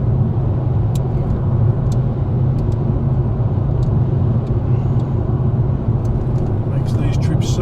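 A Mercedes-Benz AMG E55 on a scenic Australian country drive toward Mount Panorama, Bathurst, gives a steady low engine drone and road rumble that holds at an even level throughout, heard from inside the car.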